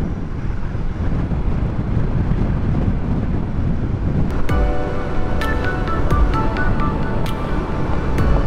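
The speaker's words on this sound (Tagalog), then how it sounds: "Dinadala ako ng hangin." Wind roars against the microphone of a rider on a Yamaha SZ motorcycle, a loud, constant rushing buffeting, with sharp metallic clicks and a faint ringing tone rising over it toward the end.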